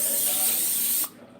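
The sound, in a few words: cooking spray being sprayed into baking pan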